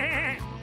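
A cartoon sheep in the Bluey series lets out one loud, wavering bleat that dips and then trails into a second shorter bleat, close and alone with no voices.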